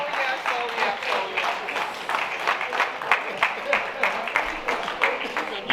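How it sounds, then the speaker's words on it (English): A crowd at a church gala night keeps up steady, rhythmic applause for an honoree, with a voice talking over the clapping throughout. "Please keep your applause going."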